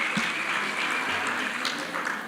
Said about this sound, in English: A big applause for the MEC for such a performance.